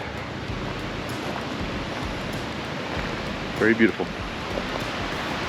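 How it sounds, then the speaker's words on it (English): Steady broadband rush of a shady creek flowing beside a campsite at a KOA campground, continuous and fairly close, with a brief voice speaking over it near the end. "Right down here by the creek."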